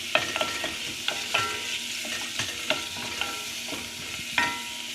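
Sliced snake gourd ingredient stirring in a frying pan until golden brown, a steady sizzle with repeated sharp scraping clicks of the spatula at an irregular rhythm, close and clear.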